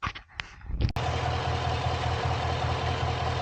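A GMC engine treated with TriboTEX oil additive idles steadily and close by with a low, even rumble, after a brief burst of clatter at the start.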